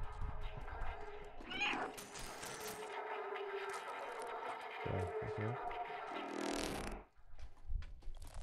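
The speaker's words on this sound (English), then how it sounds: "Cat fight, yeah." Cats fighting and meowing in the video game Stray, with yowls and scuffling over steady game music and effects, loud and close, ending in a sudden drop near the end.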